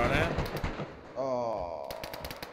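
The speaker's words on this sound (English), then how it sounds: "Oh, I think I'm being shot at." Gunfire crackles in a DayZ deathmatch, a burst of sharp shots followed by more cracks later, with a voice speaking over the middle of the clip.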